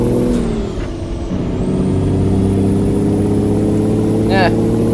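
A heavy truck engine revving in American Truck Simulator, a loud sustained rumble with steady low harmonics and a brief rising whistle-like tone near the end.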